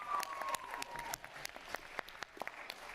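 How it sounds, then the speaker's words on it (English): A crowd claps at a fight event: scattered, fairly faint applause with irregular individual claps that thin out over a few seconds. "round of applause."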